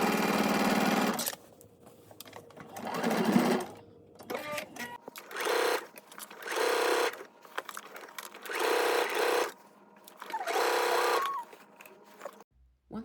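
Sewing machine understitching a jacket lining about a quarter inch from the seam, running in several steady bursts of stitching separated by short pauses, close and alone.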